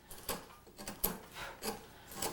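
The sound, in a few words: carving cottonwood bark with a V tool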